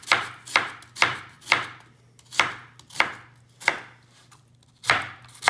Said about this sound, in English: chop one of these onions to get kind of that, not super fine, but just a nice fine cut on it